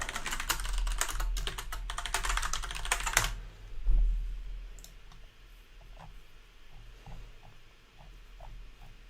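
Rapid typing on a computer keyboard, dense and loud clicking for about three seconds, then stopping, with a few faint scattered taps and clicks afterward.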